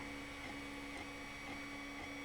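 An Ender 3 3D printer lays down its first layer on a flat mirror tile, giving a steady, close motor hum with a constant whine and faint rhythmic stepping pulses, with no talk.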